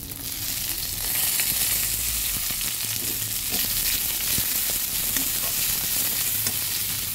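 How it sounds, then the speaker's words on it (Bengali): Chopped ginger and onion frying in oil with dried chili and five-spice seeds, a loud continuous sizzle broken by soft scrapes and clicks of stirring in the pan. "আদা আর পেঁয়াজ কুচিটা ভালোভাবে ভেজে নিচ্ছি।"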